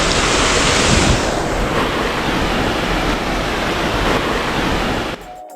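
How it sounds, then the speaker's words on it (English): Dam outflow pours into a lake in the North Woods of Wisconsin, a loud, steady, close rushing roar of water with wind buffeting the microphone, cutting off at the end. "And it showed the outflow of the dam."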